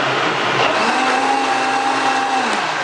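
A high-end blender whirs steadily as it purees a raw food smoothie, a loud sustained motor whine that shifts pitch slightly partway through as the contents loosen, with no talking.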